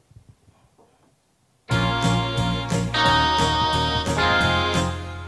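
Keyboard with a guitar-like patch plays the intro of a song, starting abruptly after a quiet lead-in, with loud, steady rhythmic chords and a sustained low bass.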